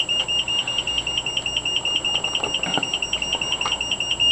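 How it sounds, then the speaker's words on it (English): An alarm panel's warning buzzer signals that an emergency call is being placed, sounding as a steady, loud electronic tone pulsing in a fast, even rhythm throughout, with faint clicks in the background. "The first thing you will notice is the warning buzzer, alerting you that the emergency call is being placed."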